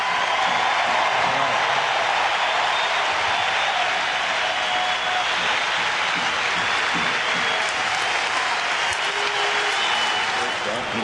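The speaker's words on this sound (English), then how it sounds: "both teams stood and applauded" Sustained crowd applause at a 2009 football game as both teams stand and clap, a dense, steady roar of clapping that fills the whole stretch without pause.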